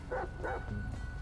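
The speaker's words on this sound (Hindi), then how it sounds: "ओ भाई कुत्ता निकाल लिया है मैंने बाहर।" A dog in the GTA V video game gives two short barks close together, moderately loud over a steady low game background rumble, with no talk.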